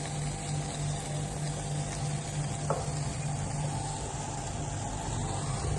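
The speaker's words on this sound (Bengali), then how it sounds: "ডিমগুলো আমি এখানে দিয়ে দিচ্ছি ফ্রাই হওয়ার জন্য।" Eggs and potatoes fry in a pan with a steady soft hiss and a faint background hum, one small clink partway through, no talking.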